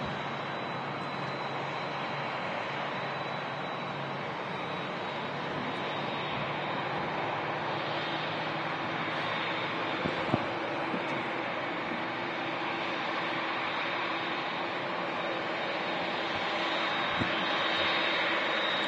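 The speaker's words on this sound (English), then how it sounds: "We've got the Dreamliner just about to taxi past as well." A Boeing 787 Dreamliner taxis past at Manchester Airport, its jet engines giving a steady, fairly distant roar and whine that swells slightly toward the end.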